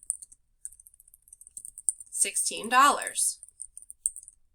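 Light, quick keyboard clicks tap out a short burst on a computer keyboard, with a person speaking over the middle of it.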